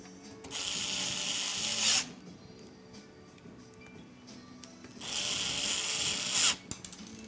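Screws are driven in with a powered driver while a white desktop PC with a radiator is assembled: two steady high-pitched whirring runs of about a second and a half each, separated by a pause with faint handling noise.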